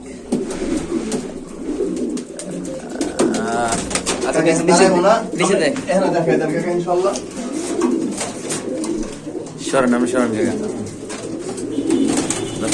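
Blue satin pigeons coo in repeated throaty, rolling bursts nearby, close and loud, while people talk over and between the calls.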